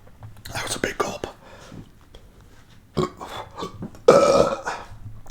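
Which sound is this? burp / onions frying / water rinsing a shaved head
burp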